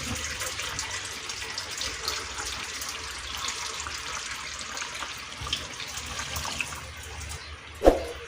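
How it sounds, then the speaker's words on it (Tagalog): Water pours steadily into a cooking pot with a soft gushing hiss for several seconds, ending in a brief louder clatter near the close; no talking. "mag-add ako ng kunting sabaw tubig"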